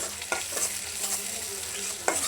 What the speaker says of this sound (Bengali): তো আমি পেঁয়াজটার সাথে সাথে চিংড়ি মাছগুলো ভেজে নেবো সুন্দর করে একসাথে